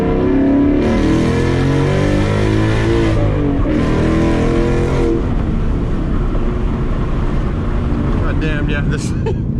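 A Lund-tuned Ford Mustang GT V8 roars loudly under hard acceleration from inside the cabin, with two surging revving pulls and wind rush, and someone speaking over the engine.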